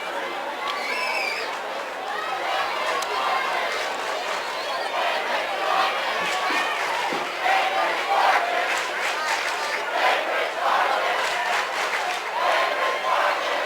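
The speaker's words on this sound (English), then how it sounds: "Crowd definitely getting into this right now, liking the run by Brigham" A crowd at a Kingston versus Bainbridge high school football game cheers, with rising shouts, claps and chatter that grow louder toward the end while an announcer talks over the noise.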